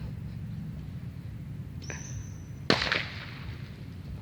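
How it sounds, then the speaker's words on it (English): A firework whistles upward with a thin rising whine, then bursts in a single sharp crack followed by a short crackle, heard at a moderate distance over a low outdoor hum near a fishing spot. "now he's setting off fireworks"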